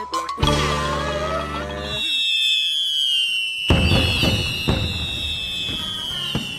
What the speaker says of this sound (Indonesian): Melihat kembang api dari tempat sepi itu memang paling asik